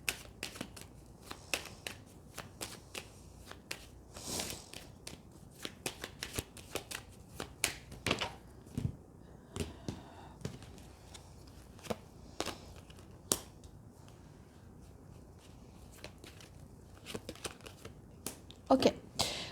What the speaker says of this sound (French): Je vais mélanger les cartes et ensuite on va voir ensemble.